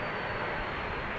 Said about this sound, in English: Which is why these airplanes are now landing on runway 27.